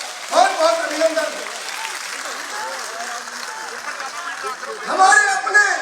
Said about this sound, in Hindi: जोरदार तालियों के साथ बहुत बहुत अभिनंदन